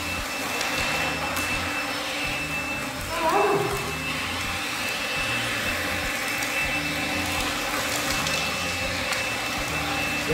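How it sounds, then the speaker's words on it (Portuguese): A vacuum hose sucks up stones while cleaning an air conditioner, a loud steady motor roar with a brief rattling clatter of debris near the middle, close up, with little else audible. "tá aspirando pedra."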